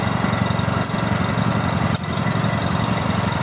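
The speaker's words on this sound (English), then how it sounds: "the machine is going to basically go into reverse" A BCS 852 walk-behind tractor engine runs steadily at close range, a loud continuous mower-like drone with brief dips around the clutch release as the machine shifts into reverse.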